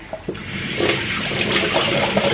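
Water runs steadily from a household tap, starting after a couple of brief knocks and then a continuous, close rushing flow.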